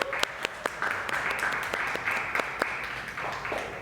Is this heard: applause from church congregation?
yes